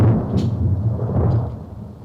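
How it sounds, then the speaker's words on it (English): Thunder rumbles low and steady through a storm in the video game Five Nights at Freddy's 3, a continuous rolling roar that slowly fades. "So there's a storm going on."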